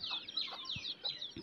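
Small backyard desi chickens, including young chicks kept in a cage, cluck and cheep in short repeated bursts, fairly close, with a few low thumps between calls and no talking.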